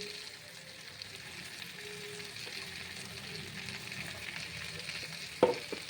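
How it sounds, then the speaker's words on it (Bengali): Dry ground spices with chili powder, a little sugar and salt fry in a hot pan, giving a steady soft sizzle with a faint scrape of stirring near the end and no talking. "এবারে মশলাটাকে একটু নাড়াচাড়া করে জল দিয়ে দেবো"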